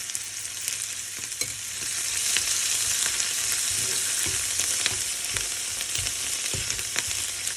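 Garlic and ginger paste with sliced green chilies fries loudly in a pan for noodles, a steady bright sizzle with scattered stirring clicks and scrapes, close up and with no talking.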